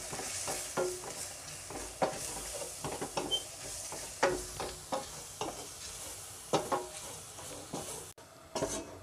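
Chili, coriander and turmeric powders stirred in a pan for Kerala-style aloo palak, a soft sizzle punctuated by repeated spoon scrapes and taps against the pan, fairly quiet, with no voices.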